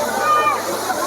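Waterfall at Patrapada giving a dense, steady rush of falling water in a brief moment, loud and close, with a voice speaking over it.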